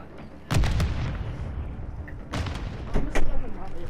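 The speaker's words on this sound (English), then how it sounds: "Grenade out." A grenade blast in Warzone 2.0 Mini Royale: a sharp boom near the start, then further loud bursts toward the end, close and punchy over game ambience.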